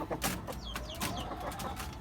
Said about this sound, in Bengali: তো টাইগার মুরগি এই তো টাইগার মুরগি